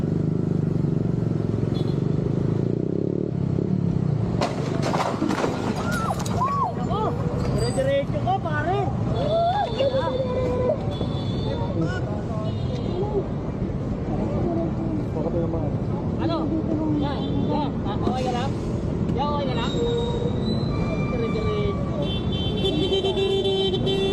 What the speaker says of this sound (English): a motorcycle crash caught on a dashcam leads to a chain reaction